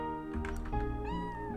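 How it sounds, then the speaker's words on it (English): Cats meowing in the game Chrono Cross, layered over steady, tonal game music, with a few short, nasal meows near each other in quick succession. "there are cats everywhere now"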